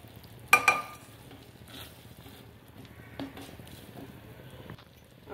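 Smashed ragda peas cooking with a little water in a pan give off a faint, quiet sizzle and bubbling, with a couple of louder clinks or stirring knocks near the start and one more midway.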